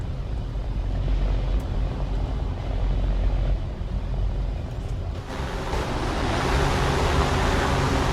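A constant, droning engine of a Kingcobra fighter plane in War Thunder roars throughout, swelling brighter and louder in the second half, with no talking.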